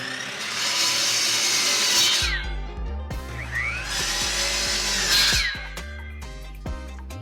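Walnut wood pieces being cut to length on a power saw: two loud, sustained whining cuts of about two seconds each, separated by a brief pause and followed by softer clunks as the blade winds down.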